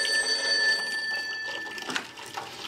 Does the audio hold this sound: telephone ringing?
yes